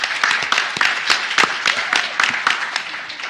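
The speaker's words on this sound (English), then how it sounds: "And they're here and they're cheering." A conference plenary audience of the DC Primary Care Association cheers and applauds, a dense, steady wash of clapping with scattered sharper claps lasting throughout, fairly close and loud.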